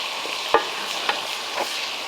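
Salami and pepperoni cook in bacon grease for baked beans, giving a steady, even sizzle with a few soft clicks of stirring close by.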